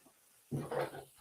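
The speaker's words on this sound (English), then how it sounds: "Oh, gosh, the dog's here." A dog barks a few times close by in a kitchen during a breakfast cookout on a Blackstone griddle, short loud yelps over faint background room noise.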